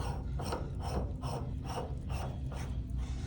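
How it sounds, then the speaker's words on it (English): A screw is tightened down on a calorimetry apparatus, giving a steady, rhythmic ratcheting rasp with about eight evenly spaced turns, close and moderately loud. "now I'll tighten it down"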